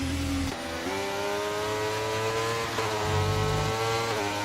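Race car engine in a racing video game set at Qatar, a loud high-pitched whine that drops and climbs again through several gear changes, sounding rough and strained, with no talk.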